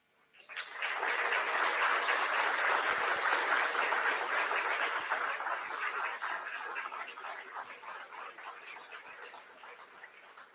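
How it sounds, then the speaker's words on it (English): A graduation-day crowd in a college hall breaks into loud, sustained applause for parents, rising quickly and thinning slowly over about ten seconds. "I want you to give a round of applause to your parents, some of whom are in this building."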